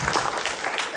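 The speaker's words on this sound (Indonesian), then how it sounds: "Tepuk tangan buat Al-Mizan." A crowd claps loudly and densely for a brief moment at a Quran recitation gathering. The burst of many hands sounds close and full, with no pause in it.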